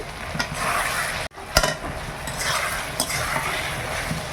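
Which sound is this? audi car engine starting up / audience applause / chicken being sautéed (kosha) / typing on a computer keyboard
chicken being sautéed (kosha)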